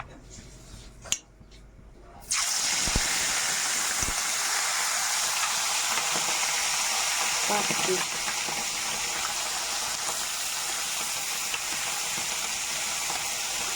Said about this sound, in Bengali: এই 4 পিস মাছ ভাজা করে নেব।